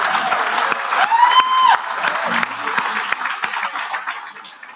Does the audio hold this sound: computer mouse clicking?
no